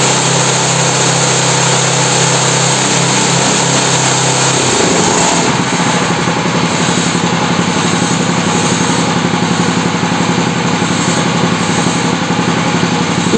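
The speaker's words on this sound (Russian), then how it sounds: "В полный газ теперь." A motorcycle engine run up to full throttle, starting as a steady low idle hum and then rising into a loud, continuous high-pitched buzzing roar that holds steady to the end.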